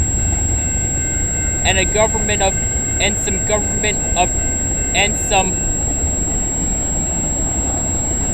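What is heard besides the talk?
freight train passing with Saskatchewan grain hopper cars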